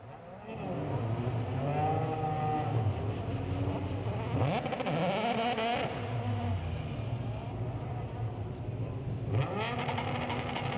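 Euroformula Open race cars roll into grid position at the Barcelona circuit before a race, engines droning and revving continuously, with rising and falling pitch as cars move past at mid distance.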